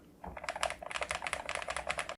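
Rapid, even keystroke clicks from a HATOR Skyfall keyboard with magnetic switches, close and crisp, with steady rhythmic bursts of typing and no voices.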